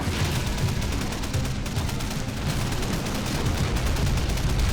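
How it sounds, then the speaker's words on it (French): Gunfire rattles continuously in the World War II strategy game Men of War: Condemned Heroes, with dense overlapping shots and machine-gun bursts mixed with heavier booms in a constant battle din. "on va essayer de tirer sur les canons anti-char là-haut."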